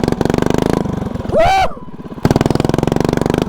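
A Tecumseh V-twin vertical-shaft lawnmower engine, mounted horizontally, runs flat out at full throttle with a loud, steady buzzing drone. A brief shout breaks in midway while the engine keeps pounding.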